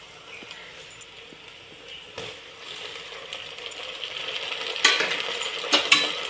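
Onions and tomatoes sauté in a pan, a soft steady sizzle with scraping spoon strokes and a couple of sharper metallic clinks toward the end, moderately close; no talking.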